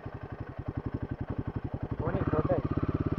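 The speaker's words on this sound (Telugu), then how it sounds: "బండి పోతుంది" A Royal Enfield Himalayan 450 motorcycle rides off-road through mud, its engine thumping in a steady, close pulse that rises slightly near the end, with a brief voice over it.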